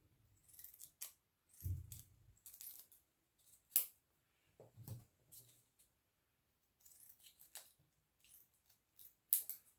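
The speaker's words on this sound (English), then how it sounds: "you're going to trim along the long edges here of the tape" Scissors snip along the long edges of tape stuck on cardboard for a homemade Fortnite loot llama, giving a series of short crisp cuts and rustles close by, separated by pauses.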